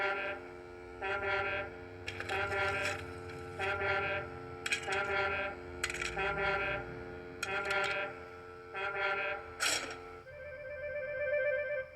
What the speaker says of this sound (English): It's a new invention, a railway foghorn, said Sir Topham Hatt.